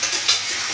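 Chickpeas frying in a pan while being stirred, a continuous close sizzle with a couple of louder scraping stir strokes.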